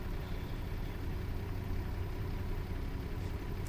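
A steady, low idle from a MAN 18.310 Caetano bus engine after a cold start in the game OMSI 2, with a constant rumble throughout, no speech, fairly quiet and unchanging.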